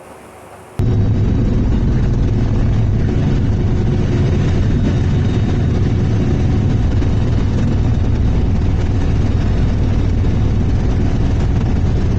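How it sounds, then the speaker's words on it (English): A tractor shredding cotton stalks in a field gives a loud, continuous, heavy low roar with a dense churning rasp that starts abruptly and holds steady throughout, close by and with no voices. "You've just witnessed us do the stalk shredding."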